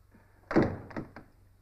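A door shuts indoors in a quiet room, a single close thud with a short rattle and a couple of faint knocks trailing after it.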